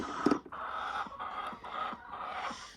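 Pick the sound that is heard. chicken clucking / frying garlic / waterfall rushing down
chicken clucking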